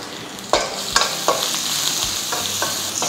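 Crushed garlic dropped into hot oil with urad dal, mustard seeds and dried chillies, crackling and sizzling loudly and close, with several sharp stirring clacks against the pan at irregular intervals.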